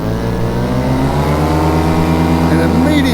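A paramotor engine is throttled up in flight, a steady loud buzzing drone with harmonics that rise in pitch toward the end as the power comes on, close and continuous.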